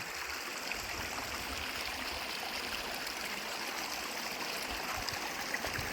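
Rushing night flood water from heavy rain roars continuously and loudly through a crop field, a steady, unbroken torrent with no pauses or voices.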